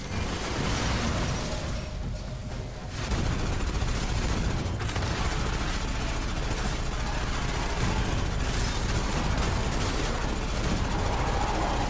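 Sustained gunfire from Aliens: Fireteam Elite 2, a dense, loud, continuous barrage of rapid shots and bursts running the whole stretch with a brief dip near the start, no talking over it.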